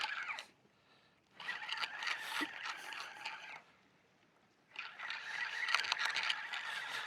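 A faulty fishing reel that will not spool properly gives off two rough grinding, scraping bursts while its handle is wound, with a quiet pause between them. The sound is faint and close.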